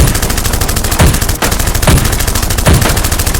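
Sustained automatic gunfire from a team laying down suppressing fire in an action movie battle, a dense loud rattle of rapid shots with heavier booming reports about every second, close and continuous.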